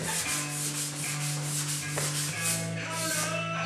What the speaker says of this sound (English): Go ahead and sand the rest of this down with some 320 and a DA